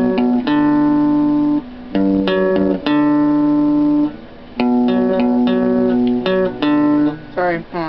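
An electric guitar plays a riff using hammer-ons and pull-offs, with steady plucked notes ringing in quick runs and short pauses between phrases, close and clear with no talking.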